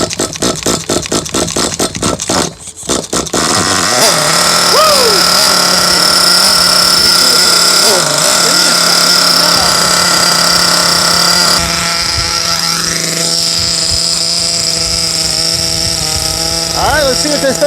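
An HSP Lacerea 94763 1/8 scale nitro RC car engine sputters through a few rough pulls and then fires into a loud, shrill, buzzing idle that revs up and down. It is very close and runs without a break.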